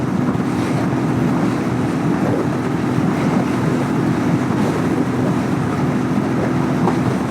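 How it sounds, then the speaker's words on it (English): A Royal Enfield Hunter 350 with a stage 2 air filter rolls along at about half throttle. Steady engine drone sits beneath loud, constant wind rush buffeting the microphone. "I'm just rolling along at about half throttle"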